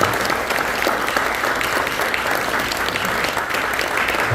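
Steady, full applause from a banquet audience at a Korean church mission conference dinner, a continuous dense patter of many hands filling the room without pause.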